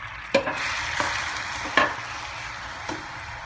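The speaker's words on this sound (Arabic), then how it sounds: "غادي ناخذ المقله ونديروا فيها الزيت البلديه، زيت العود، ونديروا بصله مخلطه" Chopped onion frying in olive oil in a pan gives a steady, close sizzle, with a few louder clinks and stirs of a utensil against the pan and no talking.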